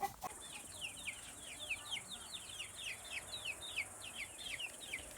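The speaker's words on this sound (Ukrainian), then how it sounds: "А ми йдемо подивитися, що там курчата" Young chicks keep up a continuous high chirping, steady and moderately close, over a faint background hum, after a brief knock at the start.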